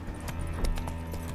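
A horse's hooves clip-clop in The Witcher 3 video game, a few soft, evenly spaced footfalls at moderate distance over a low ambient hum.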